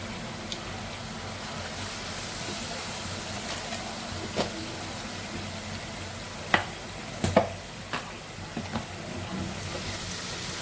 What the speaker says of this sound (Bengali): এবার দেবো এলাচ গোলমরিচ লবঙ্গ আর দারচিনি